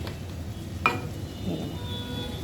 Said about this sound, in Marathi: वाटण चांगलं आपण या मसाल्यांमध्ये परतून घेऊ